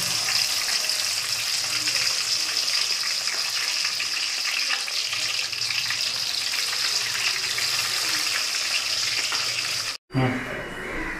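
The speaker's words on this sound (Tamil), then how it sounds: "உருளைக்கிழங்கு பொச்சாச்சு" Cut potatoes frying in hot oil, a loud, dense, continuous sizzle close to the microphone, briefly cut off near the end before resuming faintly.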